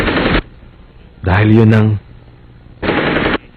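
Machine gun fire in a Tagalog-dubbed Hunter x Hunter anime episode: two loud, dense bursts of rapid automatic shots, one opening and one closing, with a man's dubbed line spoken in the quiet gap between.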